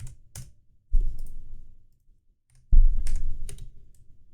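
Computer keyboard keys are pressed in two short bursts of clacking taps with a pause between, close and fairly loud, with no voices.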